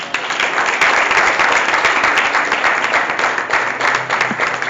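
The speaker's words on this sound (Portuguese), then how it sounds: "Vamos aplaudir o Senhor?" A church congregation at a Portuguese-language youth service applauds loudly and steadily, a thick wash of many hands clapping together with faint voices beneath it.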